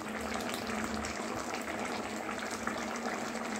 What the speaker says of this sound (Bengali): আমার টকবক করে ফুটছে